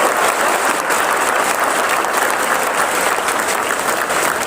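Loud, dense applause from a large seated audience in a university hall, a continuous roar of clapping holding steady throughout without letup.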